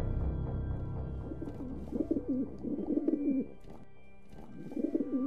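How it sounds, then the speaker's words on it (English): Birds cooing and calling at night in an animated horror setting, a series of dove-like coos repeating in bursts over a steady low background hum. "These birds are still making so much noise."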